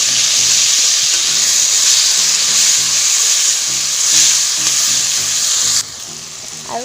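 Chopped tomatoes frying in hot oil with green chilli in a pan for masala Maggi noodles, a loud, close, continuous sizzle and hiss with stirring scrapes, easing off sharply near the end.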